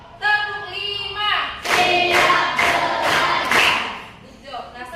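Students in a classroom break clap together in a counted rhythm, several sharp loud claps in a row, with a spoken voice before and after.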